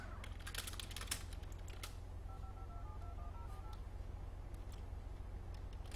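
Phone keypad dialing tones, a quick series of short beeps, play over steady low engine rumble and a few clicks as someone calls the police from a car in a role-play game.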